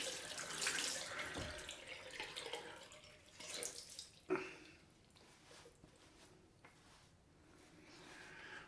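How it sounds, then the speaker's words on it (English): Tap water splashes into a sink in a soft, steady trickle with a few clinks and knocks, quiet and close. "Just going to add a bit more water."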